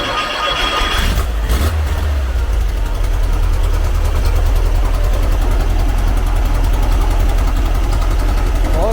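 A 1970 Volkswagen Karmann Ghia engine runs steadily, loud and close, with a brief surge early on before settling into an even, continuous drone.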